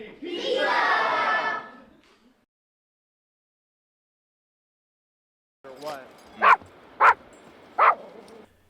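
Dogs romping in the snow on Boston Common give three sharp, loud barks near the end, preceded by a burst of voices and a long stretch of silence.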